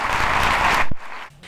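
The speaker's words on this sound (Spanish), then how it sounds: "Pedimos un fuerte aplauso para Manuel Álvarez Paz." Audience applause for Manuel Álvarez Paz at a theatre event, a dense burst of clapping that cuts off abruptly after about a second, followed by quieter room noise.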